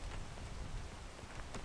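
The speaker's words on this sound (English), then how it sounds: "You always forget about the rain." Steady rain hisses across the whole short stretch in the climbing game PEAK, a dense, even wash of noise with a few sharper drop-like ticks and no voices.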